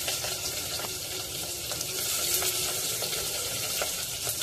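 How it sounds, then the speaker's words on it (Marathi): Finely chopped onion frying in a pan with spices for a Marathi prawn rice dish, a dense hiss of oil crackling with small pops and a few light stirring taps, close and steady, with no voices. "लगेचच यामध्ये बारीक चिरलेला कांदा घालायचा आहे"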